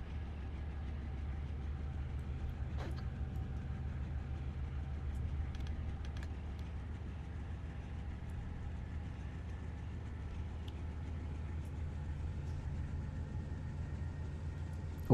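A Dash 8-40CW diesel locomotive in Train Simulator works hard hauling a stone train at night, its steady low engine rumble droning continuously and evenly throughout, with no voices over it.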